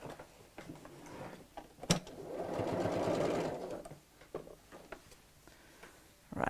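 A sewing machine stitches through a bulky double zip pocket bag, running in a steady, close whir for about two seconds between shorter stop-start bursts and light mechanical clicks.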